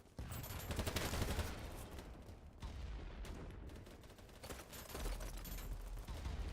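Heavy gunfire in a video game battle, bullets flying everywhere: a continuous, faint-level crackle of rapid shots and bursts with low rumbling underneath, steady throughout with a brief dip midway.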